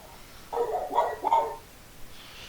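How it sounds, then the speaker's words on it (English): Dogs barking in a short, moderately faint burst of three or four yelps over about a second, amid quiet background. "You tell him, barking doggos."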